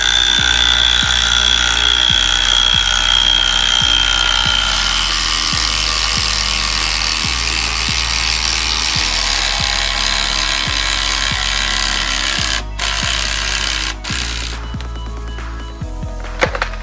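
A chainsaw cuts into a tree during felling, the engine roaring loud and close with a rhythmic pulsing throb throughout, breaking into rougher crackling near the end.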